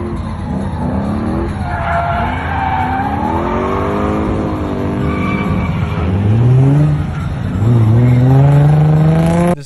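A Lexus GS400 drifts on a track, its engine revving in rising, sweeping tones while the tires squeal loudly and continuously, the squeal swelling stronger toward the end.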